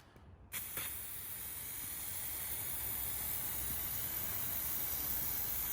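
Aerosol spray paint applied in a final coat to old trim moldings from a Nissan 300ZX, heard as a click and then a loud, steady, close hiss that runs unbroken to the end.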